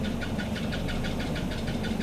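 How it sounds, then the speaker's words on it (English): A high-mileage first-generation Ford Focus idles with a steady engine hum and a rapid, repeating high chirp riding on top, close and even. "That chirp is driving me insane"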